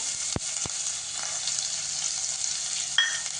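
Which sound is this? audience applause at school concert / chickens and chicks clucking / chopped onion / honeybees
chopped onion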